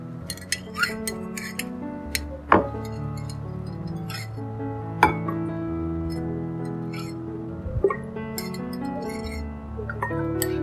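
A spoon stirs apple cider vinegar into a glass of water, giving light clinks against the glass, a few sharper strikes spaced apart, close by and under faint talk.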